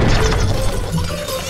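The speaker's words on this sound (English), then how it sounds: "Oh, hey, Shrek, I didn't hear you come in with all that smashing, bashing, and crashing" Loud smashing and crashing from the brawler game Shrek SuperSlam, a dense, noisy burst of breaking and banging that starts strong and thins slightly toward the end.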